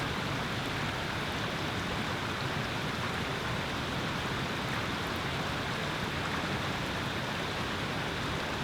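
A big waterfall on a brook trout stream gives off a dense, continuous broadband rush of falling water, steady and enveloping with no pauses or voices.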